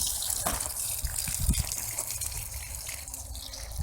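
Water is poured into a mole burrow in a vineyard, making a steady gushing, gurgling flow with faint drips and soft thumps, close and continuous with no talk.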